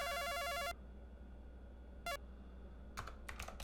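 A telephone rings in the 1988 PC video game Police Quest 1: a long electronic warble, then a short burst, then several quick chirps, all alone with no talking, over a faint hiss.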